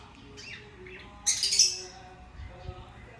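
Birds call at the Basri bird reserve, with chirps and squawks scattered over low background noise and a louder harsh squawk near the middle, while someone speaks faintly.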